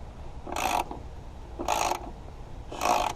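Rusted screws and bolts being worked loose on an old 1962 Hobart welder: three short, loud grinding ratchet-like bursts spaced about a second apart, with quiet pauses between.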